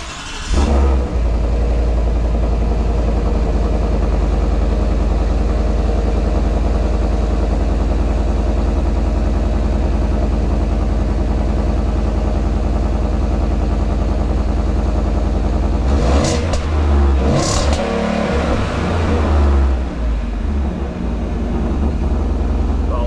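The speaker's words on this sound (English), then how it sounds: "I'll do a cold start and a couple revs." A 2025 Ford Tremor 5.0 truck engine cold-starts and idles steadily with a deep, continuous rumble, then around two-thirds through it revs up in a couple of quick bursts before settling again.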